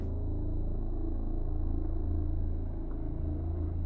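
Ambient car rumble in the horror video game The Hole in the Cabin, a steady low droning hum that fills the background without change or other sounds.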